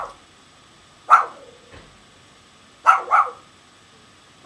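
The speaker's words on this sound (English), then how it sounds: "That's my dog." A dog barks close by, a single bark followed a couple of seconds later by a quick double bark, with quiet between.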